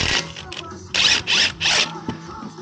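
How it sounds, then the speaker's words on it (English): Impact wrench with a 7mm Allen socket rattling out front brake caliper slide pins on a 2013 Honda Civic: three loud, close, rattling bursts in quick succession, separated by short pauses and lighter clicking. "put a 7mm Allen socket on this impact here. We'll rattle out them slide pins."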